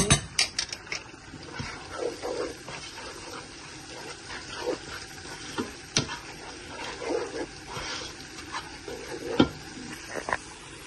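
Chicken with potatoes sizzles and is stirred in a pan, with irregular scraping strokes over a steady frying hiss and occasional clattering knocks, fairly close.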